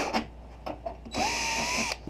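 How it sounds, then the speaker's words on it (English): A power drill enlarging the hole for a trunk lock cylinder on a 1977 Thunderbird, with short tapping bursts followed by a sustained whining drill run of under a second, close and clear. "I'm just going to drill this out a tad bigger."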